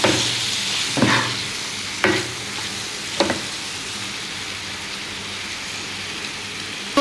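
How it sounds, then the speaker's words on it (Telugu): Boiled mixed vegetables are stirred into hot oil for a vegetable curry, a few scraping strokes of the spoon breaking over a soft continuous sizzle, close and without talk. "ఇవన్నీ ఆయిల్లో కలిసేలా చక్కగా కలుపుకుందాం"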